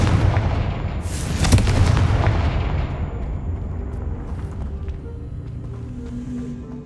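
A Confringo blasting spell goes off in Hogwarts Legacy, a loud booming explosion with a sharp crack near the start that rolls into a long rumbling decay, with no talk over it.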